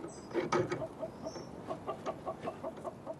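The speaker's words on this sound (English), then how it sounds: "We've got 4 chickens and a cockerel." A small backyard flock of four hens and a cockerel clucks in a steady run of short, repeated calls, close by and fairly quiet, with brief light rustling at the start.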